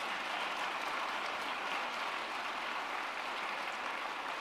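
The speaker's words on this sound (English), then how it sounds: "So how about another round of applause for Cornelius?" Applause from the audience at a school district convocation, a steady, even wash of clapping heard from a distance at low volume, with no voices over it.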